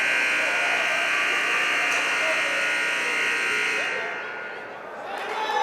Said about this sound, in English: That is the longest, annoyingest buzzer I've ever heard.